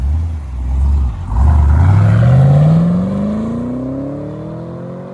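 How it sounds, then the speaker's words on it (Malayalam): A Camaro SS with an LS3 V8 and Borla exhaust makes a fly-by on an open road. The engine rumble rises as it approaches, swells loud as it passes, then the pitch climbs and fades as it pulls away. "അപ്പോൾ നമുക്ക് ഫ്ലൈ ബൈ നോക്കാം."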